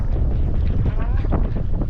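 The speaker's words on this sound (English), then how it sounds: "A little bit of a wind gust there." Strong wind gusts roar steadily across the microphone on a fishing boat on a lake at Lake of the Ozarks during bass fishing, a loud continuous rush with some water and boat noise underneath.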